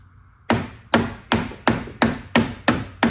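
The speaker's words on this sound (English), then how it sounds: "it's not that tight, but I'll just use my hammer anyway" Hammer taps a wooden wedge piece into the door jamb of a vintage trailer, eight sharp, evenly spaced close strikes with short decaying rings, no talking.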